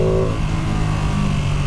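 Ducati Panigale V2 motorcycle engine revving up and accelerating in wet conditions, a steady loud drone close by with no voices.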